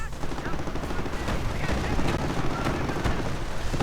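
Dense, continuous gunfire and sniper shots in a WWII strategy game battle, with a Calliope rocket launcher pounding Volksgrenadier infantry; loud crackling bursts and sharp reports overlap throughout without pause.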